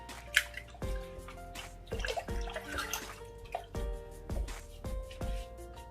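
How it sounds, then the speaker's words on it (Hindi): Water is poured into a pot of ground spices and garam masala while cooking shami kabab meat, then stirred with a spoon, giving a run of sharp clinks and splashy stirring knocks at a fairly even pace, near and moderately quiet. "वाटर डालूंगी, हाफ लीटर डालेंगे, थोड़ा सा स्टीयर करूंगी मैं इस तरह।"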